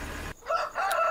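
A rooster crows in the Farming Simulator 2013 video game, one short, loud crow that follows an abrupt stop in a rumbling background sound.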